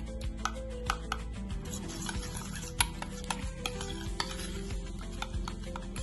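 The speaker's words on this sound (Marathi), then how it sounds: "हे बघा, असं छान फेटून घ्यायचं आहे।" Curd (yogurt) being whisked smooth in a bowl, a quiet, steady run of soft scraping and tapping strokes with no talk.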